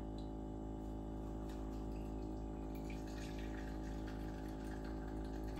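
Hot water poured from a kettle into a 20 oz pour-over coffee maker, a quiet, continuous trickling stream over a low steady hum, with no voices.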